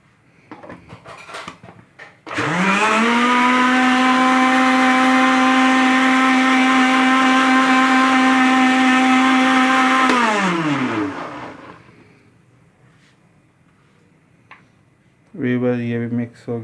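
A kitchen blender whirs loudly for about eight seconds, mixing jam shirin syrup into a sharbat drink, then spins down; brief talk comes before and after.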